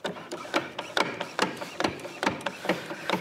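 A manual hydraulic hose crimper being worked by hand, giving a steady series of sharp ratcheting clicks, close and fairly quiet, repeating roughly every few tenths of a second.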